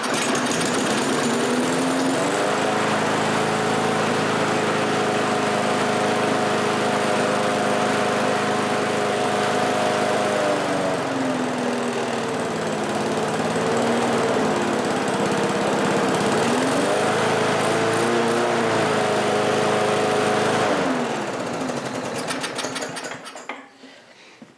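A Briggs & Stratton 3.5 HP small engine with a Pulsa Prime carburetor runs steadily and loudly up close, its buzzing note sagging and recovering a few times before it cuts out near the end.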